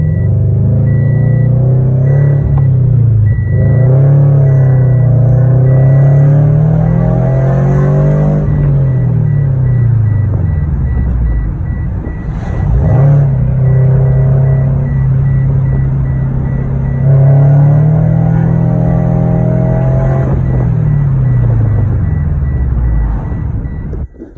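A Scion FR-S sports car drives and accelerates hard with a loud, continuous engine drone that climbs in pitch through repeated gear pulls, dropping between shifts, close and without talk.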